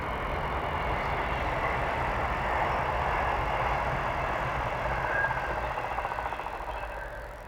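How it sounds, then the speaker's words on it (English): A train rolls past a summer allotment plot, a steady, close rumble with rattling wagons that holds loud throughout and eases slightly toward the end. "I'll just let this train go past."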